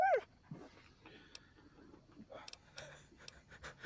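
Rex, a dog in the video game Fallout, gives a short whine followed by soft panting breaths and faint scattered snuffles, quiet and close.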